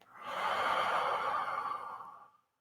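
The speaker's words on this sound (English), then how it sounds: "And then inhale through the nostrils. And exhale through the mouth." A single long breath through the nose and out the mouth during a guided meditation, a soft airy rush that swells and fades over about two seconds, close and alone with no talk.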